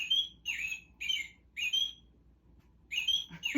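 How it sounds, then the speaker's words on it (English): A toy bird's robin-like chirp repeats in short, evenly spaced bursts, five calls in a few seconds, clear and close with silence between. "And that's the robin sound."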